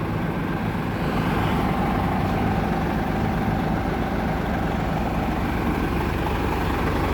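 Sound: tractor-trailer truck engine idling with dual exhaust

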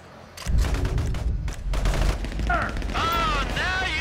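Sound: sniper gunfire in the video game GTA 5

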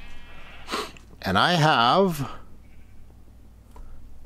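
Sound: sheep bleating in Minecraft video game

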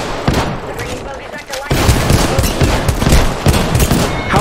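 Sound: gunfire from a G7 rifle in a video game

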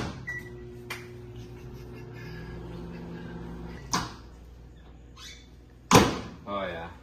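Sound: microwave oven running

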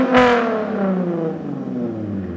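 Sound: Lexus IS250 with straight pipe exhaust revving

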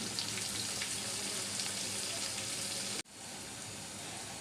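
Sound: bitter gourd pieces frying with turmeric

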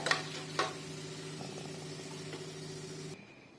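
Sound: pirandai frying in oil for chutney

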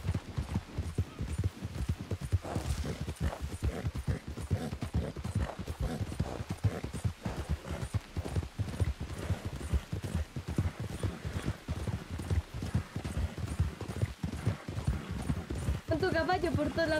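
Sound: horse hooves galloping in Red Dead Redemption II video game

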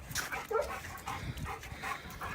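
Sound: dog whimpering

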